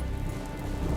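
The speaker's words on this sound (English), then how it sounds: "right on cue, it rains" Rain falling steadily in South Africa, a continuous even hiss of drops on surfaces, moderately loud and unbroken, with no voices over it.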